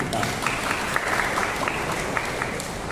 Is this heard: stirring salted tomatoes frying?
no